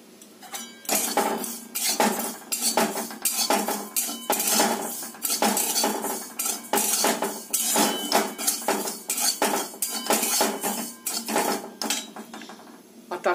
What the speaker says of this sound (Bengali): 1 কাপ ডালিয়া আগে শুকনো খোলায় ভেজে নেব।